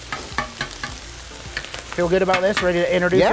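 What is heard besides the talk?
pork frying on a griddle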